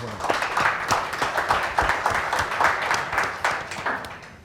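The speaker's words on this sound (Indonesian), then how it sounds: "Tepuk tangan dulu." Studio audience applauding to welcome Indonesia's Minister of Transportation Budi Karya Sumadi on a talk show, a steady dense patter of many hands clapping at moderate loudness with no one speaking.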